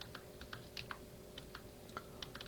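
Keyboard shortcuts are tapped out on a computer keyboard, a quiet scatter of separate key clicks in short bursts over a steady low background hum.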